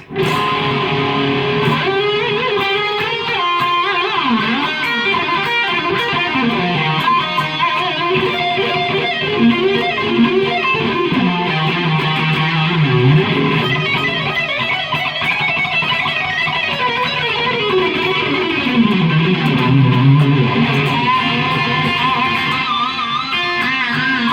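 An electric guitar plays a sustained lead melody with bending, sliding notes continuously over a steady backing for over twenty seconds, loud and up front.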